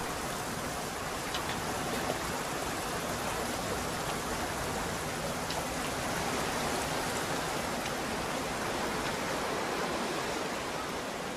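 A mountain torrent in the Pyrenees rushes across a rocky ledge as a constant, broad roar of water, even and unbroken from start to finish, with no voices.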